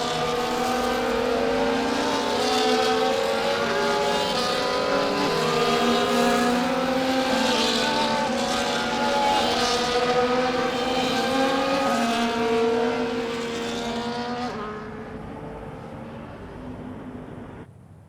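Engines of F1 race cars in a Qatar Grand Prix video game drone loudly in layered, wavering pitches as the cars file back onto the grid, swelling and shifting together before fading sharply near the end.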